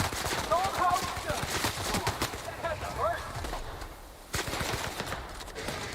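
Rapid gunfire and bursts of explosions in The Outer Worlds video game, dense crackling volleys that run continuously with a brief lull near the end, while a person talks over parts of it.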